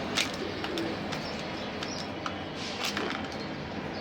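Racing pigeons coo softly in a loft, with a few faint chirps over steady background noise and no voices.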